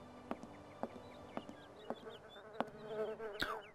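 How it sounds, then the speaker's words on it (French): Flies buzz in the adventure video game Syberia, faint close insect buzzing with a series of sharp regular taps or clicks, growing busier toward the end. "Des mouches."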